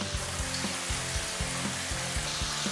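Chicken pieces frying in hot oil, a steady dense sizzle with soft recurring pops and bubbling bursts, close and continuous with no voices.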